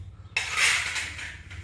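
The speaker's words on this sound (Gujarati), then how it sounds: "હા વાસણ સાફ કરી નાખો ફર્સ્ટ ક્લાસ" Metal puja utensils clinking and scraping while being washed, a short burst of handling after a quiet start, close and moderately loud.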